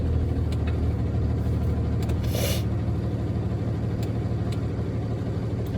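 A CDL truck's engine turns over and settles into a steady low diesel rumble at idle, loud and close, with a short hiss of air partway through.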